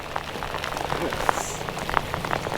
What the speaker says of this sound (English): I'm gonna cover up the front camera because of the rain is coming down.